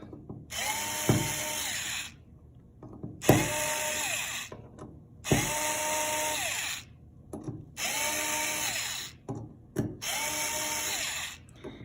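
Power screwdriver driving screws down on a BUD EXN series enclosure cover, five separate bursts of whirring with a rising motor tone, each about a second long with short pauses between, close and fairly loud.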